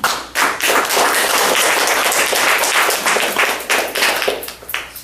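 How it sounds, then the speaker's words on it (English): A room full of people gives a sustained, loud round of clapping to welcome poet Bernice Lever at a poetry reading in Vancouver, with dense hand claps filling the space evenly before easing off near the end. "Please, let's welcome with a big round of applause, Miss Bernice Lever."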